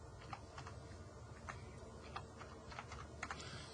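Fingers typing numerical data on a computer keyboard, a faint, irregular run of light key taps over a low steady room hum, no voices.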